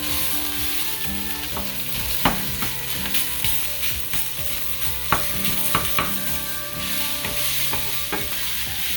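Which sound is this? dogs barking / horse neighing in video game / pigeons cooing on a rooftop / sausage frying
sausage frying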